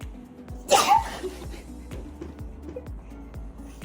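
A single sharp sneeze bursts out close by, over a faint repeating ticking rhythm in the background.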